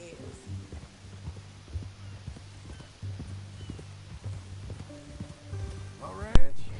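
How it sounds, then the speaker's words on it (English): Horse hooves clip-clop in a steady walking rhythm in Red Dead Redemption 2, close and moderately loud beneath a man's speech, ending with a sharp louder thump. "That new horse?"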